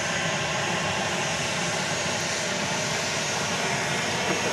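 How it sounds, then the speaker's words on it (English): A Southwest Boeing 737-700 jet airliner at Dallas Love Field, departing for Indianapolis, makes a steady, loud broadband engine roar that holds evenly throughout, with no voices. "This is Southwest Flight 662. It is off to Indianapolis. 737-700."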